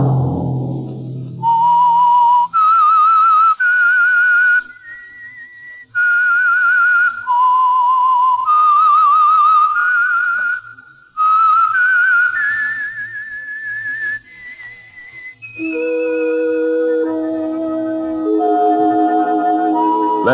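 A solo whistled melody, the signal tune of the radio drama The Whistler, clear and loud, rises through a series of sustained notes before giving way to orchestral music.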